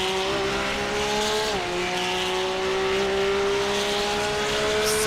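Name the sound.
Porsche Cup car flat-six engine in sim racing video game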